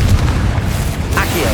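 A booming fire-spell blast in Hogwarts Legacy, a heavy low rumble from the Confringo explosion with a brief crackling burst near the end, loud and close, with a voice speaking over it.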